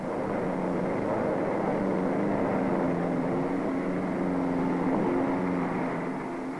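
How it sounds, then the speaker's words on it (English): A pack of 1955 Indianapolis 500 race cars rolls around the speedway in parade formation behind the pace car, a steady, broad engine drone held in check, continuous and moderately loud with no voices. "the fastest field ever to compete at Indianapolis, move away behind the pace car"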